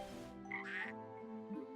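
A frog croaks in the video game Ys: Memories in Celceta, giving a short, bright, tonal call with game music and ambience sustained underneath.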